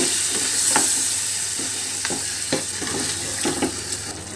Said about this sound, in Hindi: अच्छी तरह से मिक्स कर देंगे।